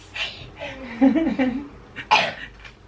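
A single short cough from someone nearby, followed by a brief murmur and a second sharp throaty burst.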